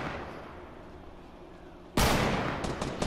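A sudden loud burst of gunshots from other players in a Fortnite match erupts after a quiet stretch, followed by a few sharp trailing cracks.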